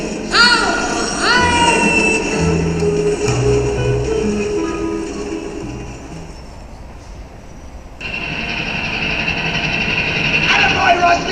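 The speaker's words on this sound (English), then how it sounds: "The train is still on the track." A train rumbles along the track with steady rolling noise and a few higher tonal squeals and clanks, with a voice or music in the mix.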